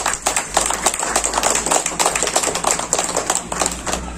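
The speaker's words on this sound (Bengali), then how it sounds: "একটা জোরে হাত তালি দিন" An audience at a running-talent event in Siliguri claps loudly and steadily, a dense, continuous burst of applause filling the space with no speech over it.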